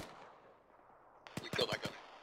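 An emplaced gun fires in the Arma video game, a quick burst of four or five sharp, loud reports in rapid succession after a faint stretch of background noise.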